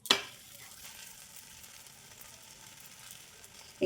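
A paratha frying in a pan over medium heat gives a steady, soft sizzle throughout, with a brief louder crackle at the start.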